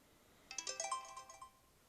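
A video game's phone ringtone plays as a short run of bright electronic chimes, fairly faint, with a rapid rising pattern that fades after about a second.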